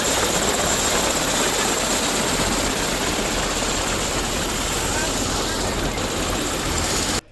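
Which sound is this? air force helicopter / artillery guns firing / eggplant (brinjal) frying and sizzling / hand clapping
air force helicopter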